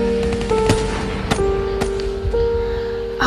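A gunshot sound effect cracks through a short-story reading, several sharp bangs over a steady tonal background hum, loud and close, with no voice heard.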